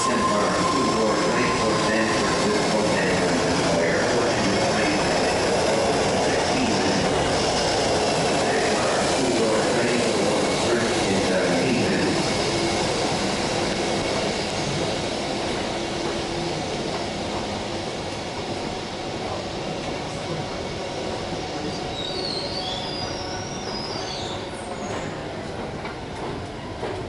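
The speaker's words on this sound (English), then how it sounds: "Did that train just stop before entering 12th Street Oakland City Center?" A BART train in the Oakland subway near 12th Street Oakland City Center rumbling loudly along the rails, then slowing and easing off as high wheel squeals ring out, with no one speaking.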